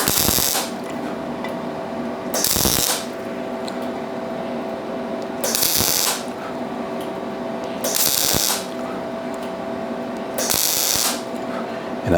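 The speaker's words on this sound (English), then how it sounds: "go ahead and weld through this section here" A welder runs beads through a metal section on a dent puller build, giving a steady buzzing hiss punctuated by regular loud crackling bursts roughly every few seconds, close and without talk.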